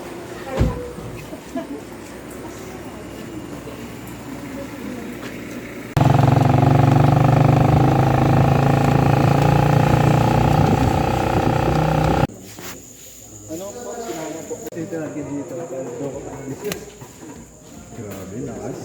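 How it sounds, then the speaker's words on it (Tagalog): Heavy rain suddenly pours down on a mountain trail on Mt. Kapigpiglatan in the Philippines, a loud, dense hiss lasting several seconds between stretches of people talking and chattering outdoors. "Rain."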